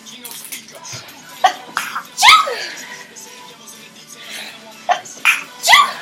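A sharp sneeze bursts out close by, followed by brief talking and another sneeze-like burst near the end.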